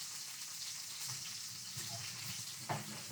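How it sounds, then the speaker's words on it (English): Soft, steady sizzling of snapper frying in a pan, fairly faint, with an occasional small clink; no one speaks. "just pan frying that fish now"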